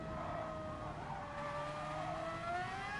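A racing car engine from the GT Sport video game drones and revs at a steady high pitch, its tone sliding slowly upward, heard alone at low volume without talk.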